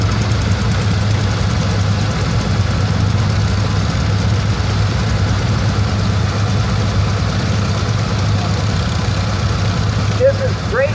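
Steady low engine drone of a 1973 Allis-Chalmers 416 garden tractor with hydrostatic drive, running continuously and fairly loud at a vintage tractor parade, with a voice faintly heard near the end.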